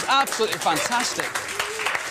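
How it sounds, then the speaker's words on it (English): A small group gives a short round of applause during a karate prank stunt, the clapping quick and scattered beneath a voice talking loudly over it. "And there you have it. A round of applause."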